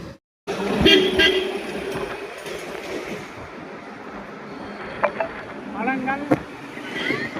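Horn honks from a vehicle following behind on a busy road, several short toots over rumbling traffic noise, with a voice talking in between.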